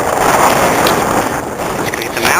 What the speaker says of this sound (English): The wind is still quite windy.